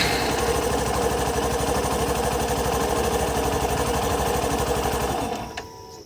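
A Hero Passion Pro motorcycle engine with its i3s idle stop-start system runs at a steady fast-ticking idle, loud and close, then cuts out near the end, leaving a brief fading silence.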